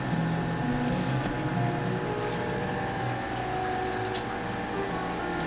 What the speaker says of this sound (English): I like how the water trickles down.